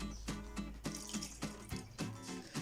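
Water poured from a beer mug into a cooking pot with vinegar for spekboom chutney, a faint close splashing and trickling in uneven pulses, no talking.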